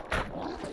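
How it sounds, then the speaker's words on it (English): A growl from an ogre mage boss in the video game DDO (Dungeons & Dragons Online), a single short rumbling snarl, fairly loud and up close. "The ogre mage growls and commands his slaves to defend him."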